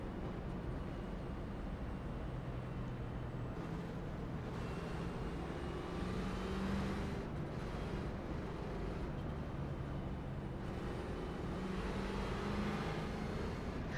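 Race car engine noise in an oval racing video game at Phoenix International Raceway under a pace car period, a steady droning hum with faint tonal whines throughout, even and moderately loud.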